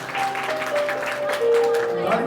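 Audience clapping fills a devotional Baba Balak Nath bhajan concert at Prabhat Mandir in Ludhiana, a steady, dense round of applause with sustained instrument tones and voices running through it.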